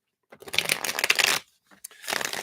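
Tarot cards shuffled by hand at close range, two bursts of riffling flutter separated by a brief pause, loud and clear with no talking.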